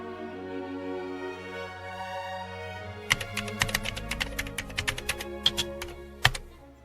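A sewing machine stitches fabric for an outer garment. A low hum comes first, then a quick, close burst of clattering taps that ends in one heavier thunk. No one speaks.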